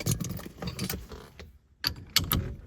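A 27 mm socket works loose a horn part on a 1968-1970 VW Beetle, giving close, quick metallic clicks and rattles, a short pause, then a few sharper clinks.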